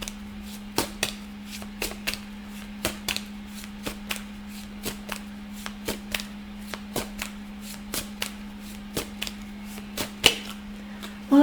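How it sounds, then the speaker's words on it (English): Tarot cards being shuffled by hand, a steady series of sharp crisp riffles and taps, close and clear over a constant low hum, with no talk. "While I was shuffling"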